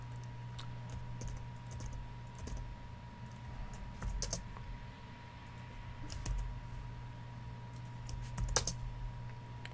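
Steady typing on a computer keyboard while entering code, clicks coming close and continuous over a low constant hum, without talk.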